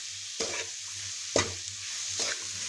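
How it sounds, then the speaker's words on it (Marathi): Three brief scraping strokes as grated coconut is stirred into melted jaggery in a pan, spaced about a second apart over a low steady hiss. "अशा प्रकारे गूळ आणि खोबरं एकत्र करून घ्यायचे."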